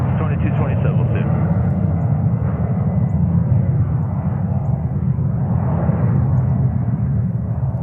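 A JetBlue or Delta airliner takes off at JFK airport, one in a run of back-to-back departures. Its engines make a broad, steady roar throughout, loud and fairly close, with a muffled voice murmuring underneath.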